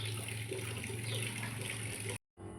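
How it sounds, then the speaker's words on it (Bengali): Tap water runs steadily while raw fish is washed in a home kitchen, a continuous close hiss and splash that cuts out briefly near the end before resuming. "মাছ ধুয়ে নিয়েছি"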